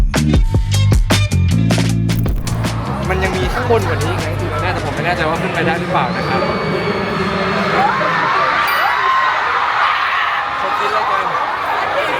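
Concert crowd at a world tour show in New York, screaming and cheering loudly as seating opens in the rain, a dense continuous roar with someone talking over it near the start.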